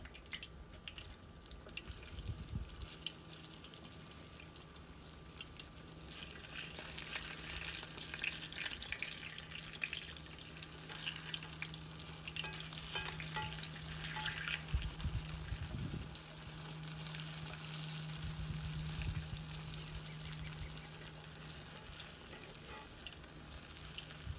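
Potato pancakes fry in hot oil in a pan, giving a steady sizzle and crackle for the whole stretch, with occasional louder spatters and clinks of a utensil as they are turned, and no talking.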